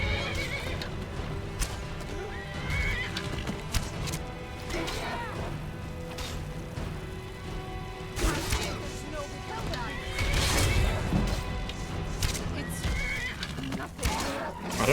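Horse in Skyrim, oddly standing inside a building, gives loud whinnies and neighs among clopping hooves and thumping knocks, while a player talks throughout.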